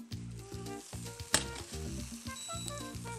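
Fried rice with vegetables and prawns sizzling in a pan, with rhythmic scraping strokes of stirring repeating every half second or so over a soft frying hiss, fairly quiet and close.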